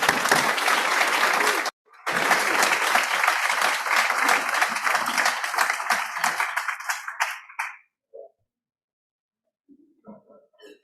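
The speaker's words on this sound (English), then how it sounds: "please join me in a round of applause for all of the recipients of awards and recognition tonight" An audience at a collegiate alumni awards evening gives a loud, dense round of applause for the award recipients. It halts briefly, resumes and thins out into scattered claps before falling silent, with faint voices near the end.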